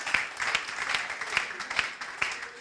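A church congregation claps in a steady, even rhythm during a sermon, with crisp hand claps roughly every half second, moderately close, over a faint background of voices.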